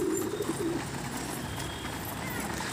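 A pigeon gives a short low coo near the start while a flock feeds on grain in a home loft, then soft background rustle continues without any talk.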